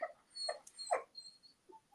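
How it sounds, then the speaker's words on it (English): A dog whimpers and yips softly in the background, making a few faint, broken whines with pauses between them. "Can you hear my dog in the background?"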